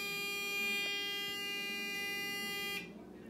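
An automatic pill dispenser sounds its alarm, a loud, steady, shrill electronic buzzer tone held for nearly three seconds before cutting off abruptly, leaving quiet room noise behind.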